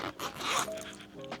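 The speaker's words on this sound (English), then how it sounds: "Oh, did y'all hear that zipper?" A zipper on a yarn kit bag is unzipped in one continuous rasping pull, close and fairly loud, followed by a shorter second zip tug near the end.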